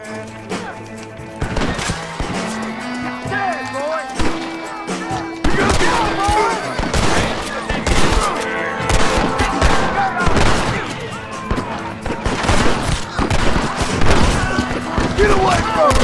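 Red Dead Redemption gunfire as a player shoots at a rope: a series of sharp, loud shots and impacts rings out, clustered in bursts, with busy in-game action around them.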